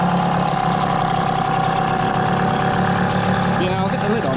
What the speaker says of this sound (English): I think now the engine's warming up and fuel's flowing through the carburetor.